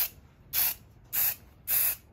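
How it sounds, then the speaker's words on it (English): A spray gun lays flat white matte paint onto a windsurf board repair at increased pressure, giving three short, close, loud hissing bursts separated by brief pauses. "you can really hear the increased pressure and see it's putting more paint on"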